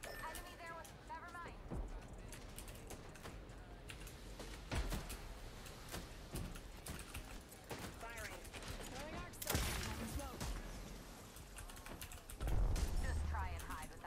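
Bursts of gunfire crack out in the video game Apex Legends, with scattered single shots and rapid volleys at varying distances, heard beneath near-constant player chatter and keyboard clatter.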